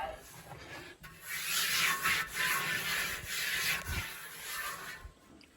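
A shop towel wiped over the inside of a 28-gallon Pierre Park cast iron pot, giving soft, close rubbing strokes in a few repeated passes, fairly quiet with no talking.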